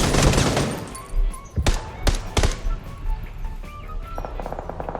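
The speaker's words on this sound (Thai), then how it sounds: "มันยิงล้อมันยิงล้อ มันยิงล้อเหรอ" Gunfire in the video game PUBG aimed at a vehicle's tires: rapid bursts and several sharp single shots, close and loud, with a voice talking underneath.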